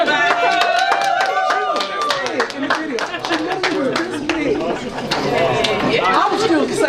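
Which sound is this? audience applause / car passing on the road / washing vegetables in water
audience applause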